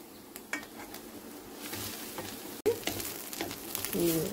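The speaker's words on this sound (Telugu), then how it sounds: "కొద్దిగా నెయ్యి వేసి ఈ రెండు అంటే క్యారెట్ తురుమును సొరకాయ తురుము ఇలా పచ్చివాసన పోయేదాకా వేపుకోవాలి" Grated carrot and bottle gourd frying in ghee for a halwa, a close steady sizzle with scraping stirs and clinks of a spoon against the pan, one sharp knock midway.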